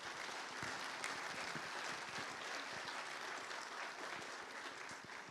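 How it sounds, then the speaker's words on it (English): Audience applause for students at a school spring concert, a steady wash of many hands clapping at moderate distance, continuous and fairly even throughout with no voices over it. "let's give all the students one more round of applause for a great job tonight"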